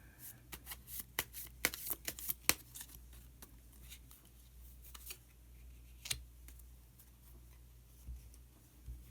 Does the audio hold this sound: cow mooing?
no